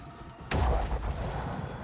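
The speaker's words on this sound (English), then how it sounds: "This explosion, shockwave sound." An explosion with a shockwave in the action RPG Wolcen: Lords of Mayhem hits suddenly after a quiet moment, a loud booming burst that rumbles on and fades slowly.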